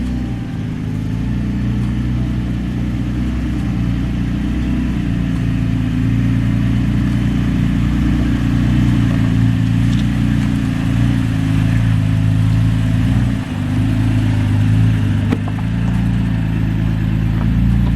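Jeeps and other off-road vehicles climb a rocky obstacle on the Dutch John trail in Uwharrie National Forest, North Carolina, a loud, steady low engine drone at close range that holds throughout with slight swells and no speech.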